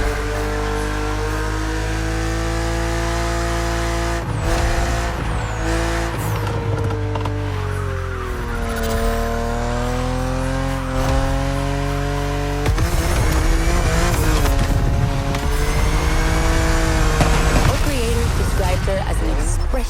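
A BMW in The Crew Motorfest holds a loud, continuous engine drone on the open road, its pitch sweeping through gear changes and revs, with a voice talking over it.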